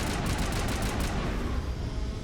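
Sustained, rapid burst fire from Mass Effect 1 (Legendary Edition) combat, loud and dense from start to finish, with no talk over it.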